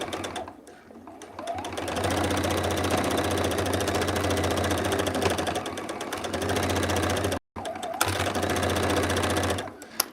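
Sewing machine stitching zipper pouches, a loud close continuous mechanical whir for most of the stretch, briefly stopping and then starting again near the end.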